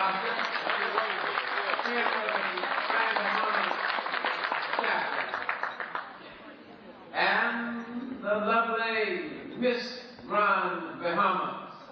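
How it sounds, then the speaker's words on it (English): Audience applause at the 1986 Bahamas liquor licensees convention, a sustained burst of clapping for about six seconds that fades as someone speaks over a microphone. "Let's give Oscar a round of applause while he's standing"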